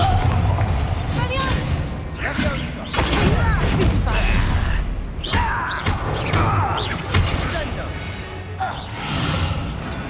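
A Bombarda blast spell goes off in Hogwarts Legacy inside an abandoned mine, a loud booming crash with thuds and debris amid continuous game noise and a voice speaking.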